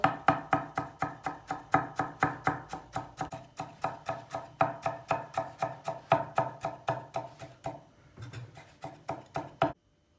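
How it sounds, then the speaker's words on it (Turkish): Rapid, steady knife chops finely cutting dill on a cutting board, close and crisp, a quick even rhythm that slows briefly near the end before stopping. "Dereotumuzu çok ince doğrayacağız."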